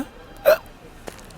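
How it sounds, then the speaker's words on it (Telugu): A single sharp hiccup, close and loud, followed a moment later by a fainter catch of breath. "ఎక్కిళ్ళు వస్తున్నాయిరా"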